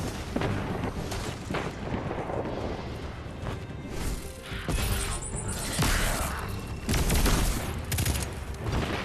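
A dense barrage of explosions in the shooter Destiny, grenade-launcher blasts among them, with sharp booms and gunfire cracks piling up in quick irregular succession, loud and close throughout.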